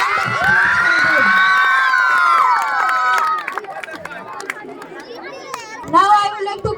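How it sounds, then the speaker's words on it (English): A school audience of children cheers and shouts loudly for the class winning a mathematics quiz competition, then the noise drops into scattered chatter and calls before a brief burst of shouting returns. "Please give a round of applause."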